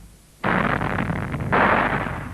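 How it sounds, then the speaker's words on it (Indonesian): A sudden loud, rumbling blast of ore-bearing rock in a mine tunnel bursts in after a quiet moment, followed by a second heavy surge of roaring noise, sustained and booming like rock being blown apart. "Kemudian bagian-bagian yang mengandung biji diledakkan."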